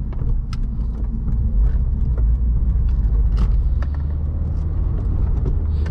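A 2016 Subaru WRX Premium with a 6-speed manual drives steadily, its engine giving a loud, constant low rumble with road noise for the whole stretch and no talking.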